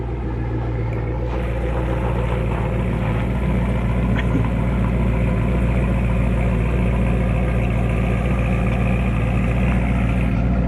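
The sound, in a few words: car engine idling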